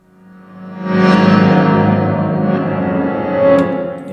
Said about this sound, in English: I want it quite wet, so heavily drenched in reverb